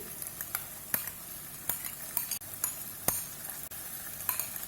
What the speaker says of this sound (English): Let's add in the lentil